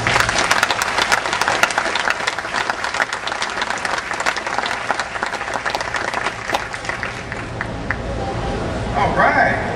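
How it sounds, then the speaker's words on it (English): An audience aboard the aircraft carrier USS George H.W. Bush claps and cheers for Chris Draft at a friends and family day, dense applause with scattered whoops, loud and sustained, with crowd chatter mixed in. "Please join me in giving a big cheer for Chris Draft."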